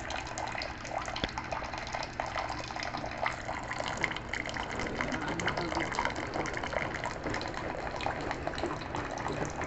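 Hot water gushing steadily from a tap into a cooking pot, a continuous splashing flow without a break.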